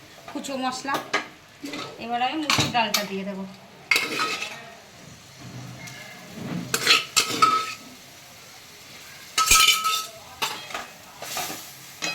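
Chickpea and lentil dal poured into a pan, with splashing and sizzling, clinks and scrapes of a utensil against the cookware in separated bursts, and a voice briefly audible.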